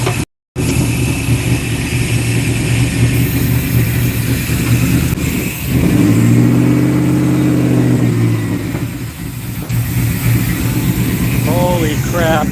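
An LS1 V8 swapped into a 1992 Chevy C1500 with a T56 gearbox fires up for the first time after a short click and silence, idling roughly and revving loudly in bursts, with voices talking over it.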